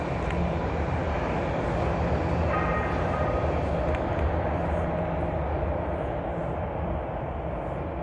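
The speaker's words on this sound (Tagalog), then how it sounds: "Yan ang train." A Toronto subway train pulls into the station, a loud, continuous rumbling roar of wheels and motors filling the platform with a steady broadband din.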